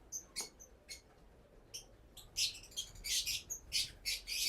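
Parrot chicks in a nest box give a series of thin, high chirping and squeaking calls, sparse at first and then more frequent and louder in quick clustered bursts.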